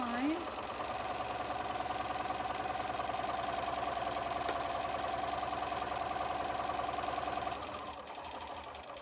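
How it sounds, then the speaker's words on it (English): A sewing machine stitches a paper-pieced quilt block, running in a steady fast mechanical whir at a constant pace for several seconds before stopping near the end. "I will just sew along the line."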